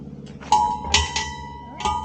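A metal bell sculpture is struck several times with a hammer, each hit ringing out with a clear sustained tone that fades between strikes.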